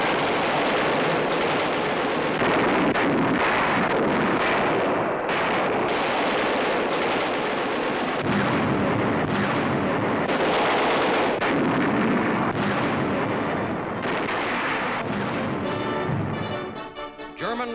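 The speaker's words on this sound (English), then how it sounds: "Artillery blasts the last fortress," Heavy artillery shelling of Belfort Castle near the Swiss border in a 1944 wartime newsreel, a continuous loud barrage of booming blasts and rumbling explosions throughout with no gaps.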